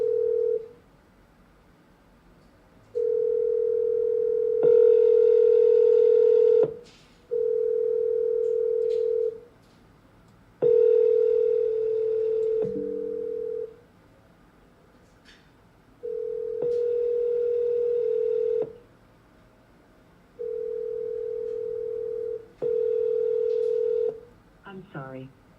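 A telephone ringback tone sounds during a call to a property buyer: steady long tone pulses repeat with short gaps, loud and close, and a few brief clicks fall between them.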